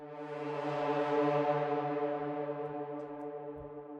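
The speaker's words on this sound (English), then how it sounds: "That is a really transparent reverb" A sustained harmonic orchestral tone, rich and steady like a low brass drone, rings through a transparent reverb impulse response in ProjectSam Symphobia 4 Pandora, holding for several seconds and fading softly at the end.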